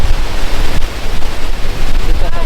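A waterfall at Trollstigen in Norway gives a loud, constant rushing roar close by, broad and unbroken for the whole stretch, with some gusty buffeting mixed in.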